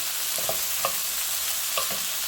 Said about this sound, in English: you can add the asparagus pieces and saute it with a little bit of salt and pepper